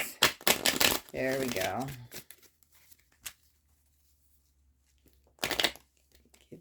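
A deck of oracle cards is shuffled in quick, crisp riffling bursts, with a short spoken remark between them and another brief shuffle near the end.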